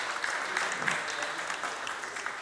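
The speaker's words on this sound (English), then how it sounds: "Round of applause." A crowd applauding steadily at a startup pitch competition, a dense patter of claps that stays even and moderately loud throughout with no voices on top.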